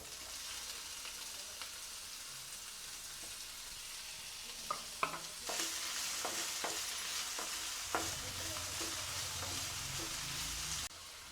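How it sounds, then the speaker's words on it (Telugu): Onions and tomato pieces fry in a pan for a paneer masala, giving a steady close sizzle with a cluster of stirring scrapes and clinks in the middle, then a louder sizzle; no talking. "ఆనియన్స్ని కూడా వేసుకొని వాటిని కూడా పచ్చిదనం పోయేంత వరకు వేయించుకోవాలి"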